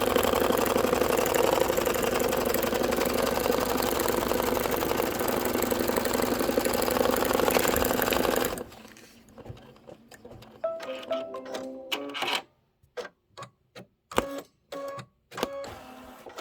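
A Kimberbell-project embroidery machine stitches out a placement crosshair with a white bobbin loaded, giving a dense, steady mechanical whir for about eight seconds. It then stops, leaving scattered clicks and short beeps.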